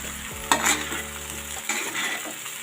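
Leftover rice snack stirred and fried in a pan: a loud, steady sizzle with scraping stir strokes, close up, and no voices.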